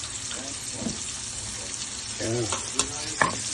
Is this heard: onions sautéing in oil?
yes